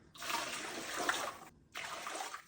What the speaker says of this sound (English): Now we're going to put 3 quarts of water into our pressure canner.